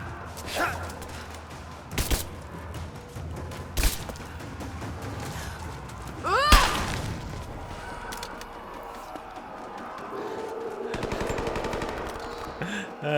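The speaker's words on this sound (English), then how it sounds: "Shoot his toes and then smack him with the butt of the assault rifle over the head." Assault rifle fire rings out in the video game Rise of the Tomb Raider. Several sharp, loud bursts and single shots are spread across the clip, with other game sounds in the background between them.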